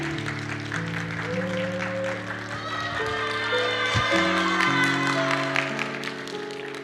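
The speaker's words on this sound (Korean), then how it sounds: "다시 한번 감사 박수." Thank-you applause during a church service: scattered clapping from the congregation sits under sustained keyboard music playing throughout.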